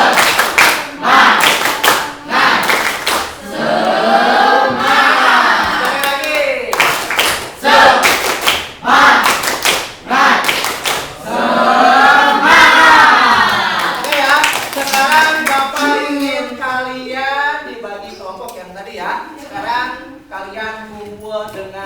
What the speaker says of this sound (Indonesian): Tepuk semangat 2 kali.